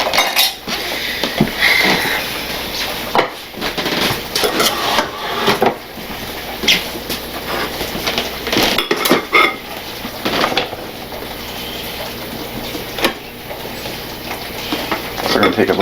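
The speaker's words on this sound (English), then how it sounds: "I'm gonna get a bowl and we're gonna start plating this." Dishes and cutlery clinking and scraping as chicken biryani is served into a bowl in a kitchen, repeated light clatter and rubbing with people talking over it throughout.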